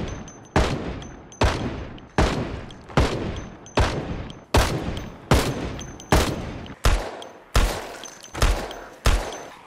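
Rifle fire in a zombie survival video game: about a dozen loud, sharp shots at a steady pace roughly every 0.7 seconds, each with a short decaying tail, heard alone with no talk.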